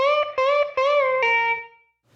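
Distorted electric guitar solo phrase with full string bends: a handful of sustained, sliding notes bending up and held, loud and close, ending with a fading final note.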